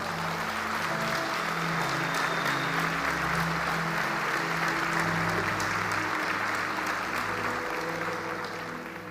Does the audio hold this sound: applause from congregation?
yes